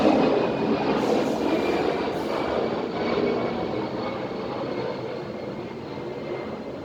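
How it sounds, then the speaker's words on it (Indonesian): An airplane passes overhead with a broad, steady roaring rumble that fills the air and fades slightly as it moves away. "ada suara pesawat tadi"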